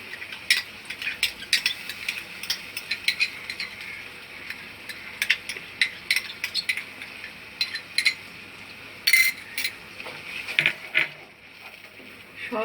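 A metal spoon stirs a Bengali paneer rezala spice paste of ground cashew, raisin and almond in oil in a pan, giving irregular close clinks and scrapes against the metal, fairly quiet and without talk.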